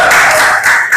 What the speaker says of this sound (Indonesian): Beri tepuk tangan untuk Bapak Ibu.